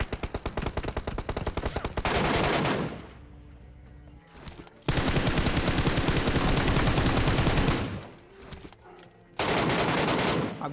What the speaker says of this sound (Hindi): जब मैं इस बंदे को के साथ फाइट कर रहा था तो मेरे पीछे से एक फायरिंग हुई